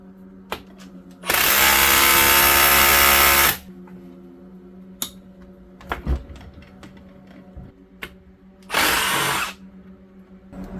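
A power drill or impact tool spins out 10 mm bolts from a cracked NP241J transfer case off a 2006 Jeep Wrangler LJ Rubicon, with two loud whirring bursts separated by clinks and handling clatter of metal parts.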